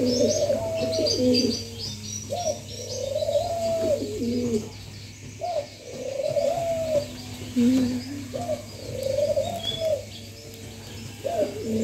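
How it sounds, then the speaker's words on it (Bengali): Pet pigeons near a garden tree coo in repeated, rolling phrases close by, with lighter chirps in the background and a low steady hum underneath. "এই যে আমাদের কবুতরগুলো।"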